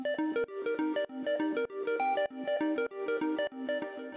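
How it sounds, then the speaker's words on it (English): A bright synth arpeggio repeats quick, evenly spaced notes in a looping, cycling pattern, each tone ringing with a soft echoing tail and a spacious wash of reverb, at moderate volume with no voices. "Next up, we've got this little ARP line that comes in later on in the song,"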